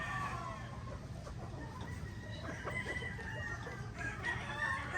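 Gamefowl chickens in a 226 Sweater breed brood pen, with repeated clucking and short crowing calls close by over a constant low background hum, no talking.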